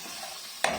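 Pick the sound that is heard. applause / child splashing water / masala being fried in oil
masala being fried in oil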